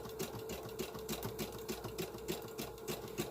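A sewing machine stitching fabric for a mobile phone bag, running with a fast, even mechanical chatter of needle strokes, close and steady with no talk.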